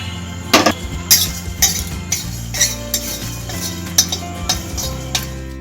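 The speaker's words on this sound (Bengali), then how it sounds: "কড়াইয়ে গোটা মশলাগুলো দিয়ে দিচ্ছি" Whole spices, including bay leaf, cinnamon, cloves and cardamom, are dry-roasted in a wok and give a series of sharp metallic clinks and scraping knocks at an uneven rhythm, close by, over a low steady hum.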